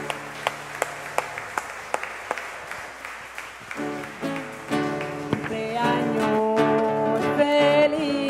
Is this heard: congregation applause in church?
yes